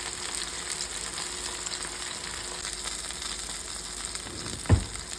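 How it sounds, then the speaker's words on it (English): Chicken pieces fry in a large skillet with a steady, even hiss of hot oil, close and without voices, and a single soft thump near the end. "I'm cooking about 2 pieces, even though this is a large skillet."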